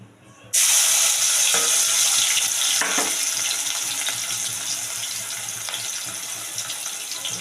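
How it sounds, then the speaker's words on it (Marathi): Chopped onion dropping into hot oil in a pan for prawn biryani, bursting into a sudden loud sizzle that holds steady and slowly softens, with a few stirring clicks. "हा कांदा छान आपल्याला गोल्डन ब्राऊन करून घ्यायचा आहे शिजत ठेवला आहे मी"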